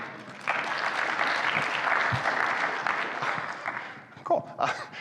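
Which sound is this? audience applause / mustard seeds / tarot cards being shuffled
audience applause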